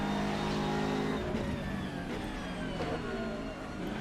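GT3 race cars, a McLaren and a BMW, roar continuously in a video game race at Laguna Seca, with loud sustained engine drone and shifting revs close up throughout.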